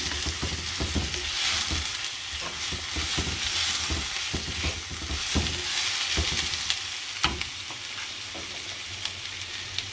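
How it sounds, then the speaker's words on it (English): Steady, dense sizzling of onions frying in a hot pan, with occasional louder crackles and pops and a few clinks, continuous throughout with no talking. "When it's frying, we have to fry these onions until they turn golden brown."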